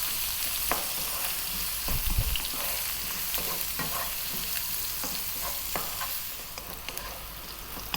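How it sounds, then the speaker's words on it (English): Eggplant pieces seasoned with black pepper and salt fry in a pan, giving a steady close sizzle broken by scraping stirs and small clinks. "we're going to fry these around just for like 4 minutes or so"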